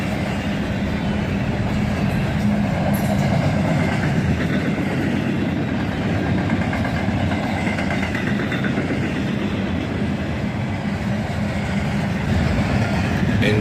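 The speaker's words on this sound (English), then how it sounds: "A hotshot intermodal train blasting northward." A hotshot intermodal freight train led by a 4 CW, a flared-radiator SD70MAC and an ES44DC rolls steadily past up close, with continuous loud rumble and rhythmic wheel clatter throughout.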